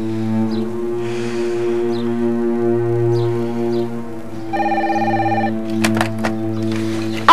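A telephone bell rings steadily in a French-speaking home, a sustained tonal ring with a brighter burst of higher ringing partway through, loud and close with no talk over it.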